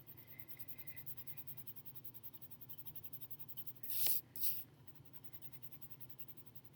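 Colored pencil layered onto paper, a soft rhythmic scratching of repeated strokes, faint and close, with a brief louder scrape partway through.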